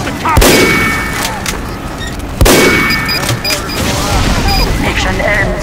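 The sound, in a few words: gunfire in the video game Team Fortress 2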